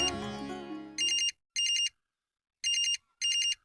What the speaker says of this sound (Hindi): राहुल, राहुल तुम्हारा फोन है।